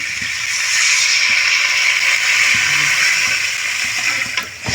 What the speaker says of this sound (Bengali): এখন আমি দিয়ে দেবো জল